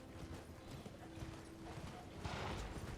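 Hooves of a horse being ridden at normal pace in Elden Ring, a continuous rhythmic clip-clop of steady hoofbeats, fairly faint, with no talking.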